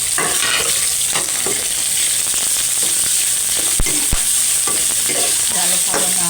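Shredded chicken and onion fry in a pan and get stirred often. A continuous close sizzle runs through it, with scraping stir strokes and a couple of sharp clacks against the pan.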